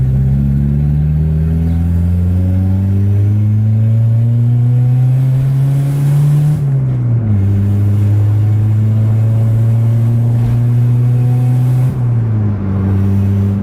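A turbocharged Honda Civic engine revs hard on a test drive, rising in long loud climbs with brief drops at gear changes around the middle and near the end, close and dominant with no talk.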